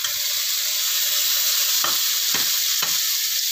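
Loud, continuous sizzle of chicken feet frying with egg and chili in hot oil, close up, with three distinct stirring scrapes near the end and no talk.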